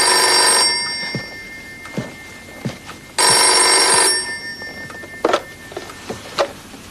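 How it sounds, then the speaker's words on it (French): Telephone ringing in a French TV series episode, two loud bell rings about a second long each, spaced apart, with scattered knocks and small handling sounds between them. "Répondez au téléphone vite, je vous en prie."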